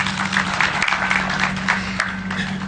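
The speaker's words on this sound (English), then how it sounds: "Please clap for them." An audience at the 2023 KCPE results release applauds long-serving examiners, a steady, dense wash of clapping that holds evenly for the whole moment with no talk over it.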